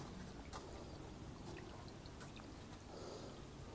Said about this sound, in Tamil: தண்ணி வந்து ட்ரிப் ஆகிறது உங்களுக்கு தெரியும்